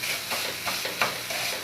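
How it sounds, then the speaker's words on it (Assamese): Coconut filling for jon pitha frying gently in a pan over a low gas flame, giving a soft, steady sizzle broken by a few brief scraping stirs. "কম জুইত এনেকৈ ভাজি আছোঁ"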